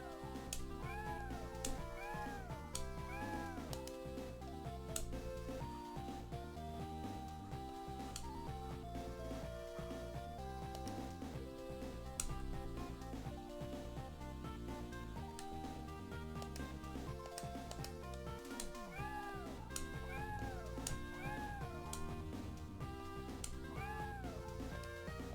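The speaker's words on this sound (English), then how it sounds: "Meow." Synthesized cat meows from the Game Boy Advance game Paws & Claws: Dogs & Cats Best Friends repeat every few seconds over steady, looping in-game music.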